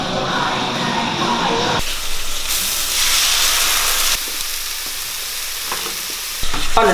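Food sizzling in a pan during stir frying, a loud hissing crackle that cuts in and out in bursts with clatter between, close up and without speech.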